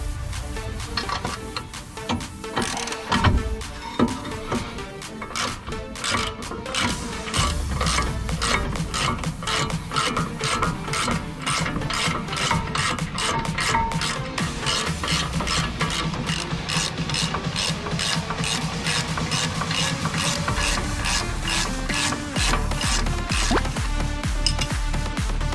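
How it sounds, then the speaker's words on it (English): A ratchet works loose the 21mm caliper bracket bolts on a 2015 Ford F150, giving a long, steady run of rapid close-up clicking, with brief pauses, that goes on for about 25 seconds. "You're going to want to take out the two 21mm bolts right here holding the caliper bracket in."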